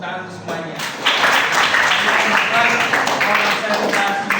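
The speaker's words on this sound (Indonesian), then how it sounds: "Oke, tepuk tangan semuanya." Students clapping in a classroom, beginning after a short spoken prompt and continuing as a loud, sustained burst of many hands with voices mixed in.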